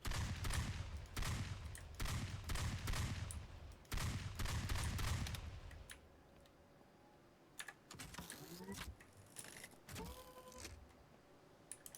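A laser gun from the zombie game VEIN, loaded with energy cells, fires a quick series of sharp, evenly spaced zaps for about six seconds, then gives way to quieter mechanical clicks and whirs.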